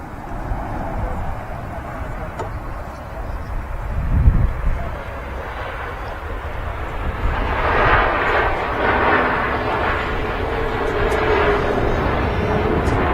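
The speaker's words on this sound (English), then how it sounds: "Bit of a float there on the Max, just before touching down" A Boeing 737 Max jet airliner landing at Manchester Airport, its engine roar rising from a distance and swelling to a sustained rushing rumble, heard outdoors with some wind buffeting.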